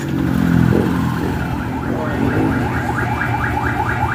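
A carbureted motorcycle engine with a carburetor overflow fault runs steadily up close, its idle wavering and rising slightly with a rough, throbbing rumble throughout.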